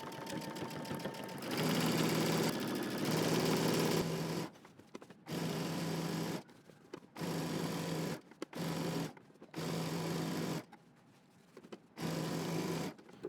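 Sewing machine stitching a seam in black pants with black thread, running in several loud, close bursts of steady whirring, separated by short pauses for backstitching at the start and end of the seam.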